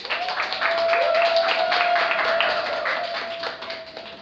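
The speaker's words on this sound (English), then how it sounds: "A round of applause, please." Applause from an audience at a formal debate or cross-examination event, a dense, steady wash of clapping sustained over several seconds, loud and continuous, then thinning toward the end.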